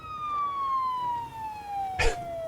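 A wailing siren in the zombie survival game Project Zomboid, a single tone sliding slowly downward and holding steady at moderate loudness, with a brief burst of noise near the end.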